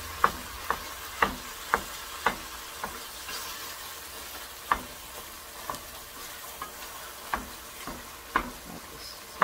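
Ground beef browning in a pan gives a steady low sizzle, broken by a series of sharp clicks and taps from stirring at irregular intervals, with no talking.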